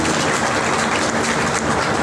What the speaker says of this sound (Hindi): तो अपने ऑफिस के लिए एक बार जोरदार तालियां।